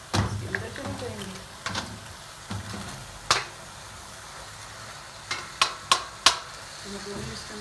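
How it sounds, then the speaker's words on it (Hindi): Boiled macaroni tipped into a pan with vegetables and chicken and stirred, with soft sizzling and several sharp scraping knocks of a spoon against the pan, under a voice talking. "ये सारे मैक्रोनीज जो है वो इसके अंदर चले जाएंगे।"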